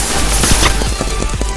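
Turret firing in the Roblox Big Paintball game, a loud fast burst of repeated shots in a steady rapid rhythm over a dense, noisy game background.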